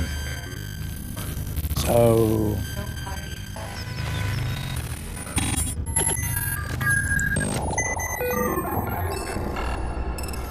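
A black hole noise effect from the Audiomodern Freezr stutter sequencer plugin churns through chaotic glitchy tones, sweeping pitches and stuttering bursts, loud and dense, with a brief spoken word near the start.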